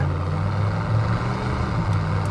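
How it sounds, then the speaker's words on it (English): A 1990 Chevrolet 454 SS pickup with its 454 V8 and a stock-style replacement exhaust runs with a steady, deep low rumble, fairly loud and close, with no talking. "As far as your exhaust goes, it's a stock style replacement exhaust. It sounds great, not very loud."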